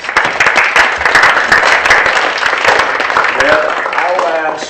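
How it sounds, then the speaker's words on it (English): Audience at a school prize-giving ceremony claps for staff members, a dense steady wash of many hands lasting throughout, loud and close, with faint voices and a few short chirps near the end. "I would like us to say congratulations by clapping hands to our staff members for this."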